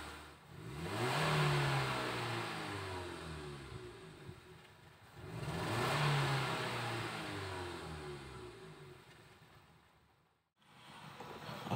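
A 2012 Nissan Livina engine after a Blackcore tune-up revs up twice in long swells from idle, each rising and slowly falling back, heard close with no talk.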